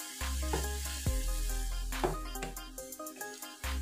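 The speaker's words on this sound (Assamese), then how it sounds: "আৰু এইখিনি মই ভালদৰে ভাজি ল'ম।" Ginger garlic paste sizzles and fries in a hot pan for an egg curry, a steady loud crackle with a few soft clinks and stirring scrapes, no talking.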